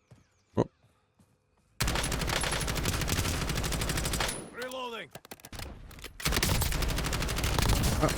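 Gunfire in the video game Call of Duty Warzone: a single sharp shot, then sustained loud rapid fire with a brief lull and a swooping tonal effect before the shooting resumes.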